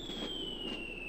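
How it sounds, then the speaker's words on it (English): Mortar firing in the PC game Army Men: two soft, muffled launch thumps in quick succession over a steady high electronic tone, at moderate volume with no talking. "Let's grab our mortar. And let's start cleaning up that piece of crap there."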